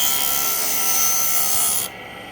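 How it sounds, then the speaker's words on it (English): A metal spoon is ground flat while being shaped into a spoon ring, giving a loud, steady abrasive hiss that continues for almost two seconds before easing off. "I grind it a little more so that there's a flat surface"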